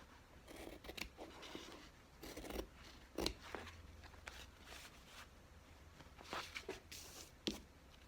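Scissors snipping through journal paper during soft-cover bookbinding, a series of close, crisp cuts with short pauses between strokes, no talking.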